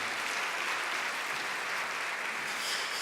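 Steady, full applause from an audience at a business awards event, a dense wash of many hands clapping continuously at an even level throughout.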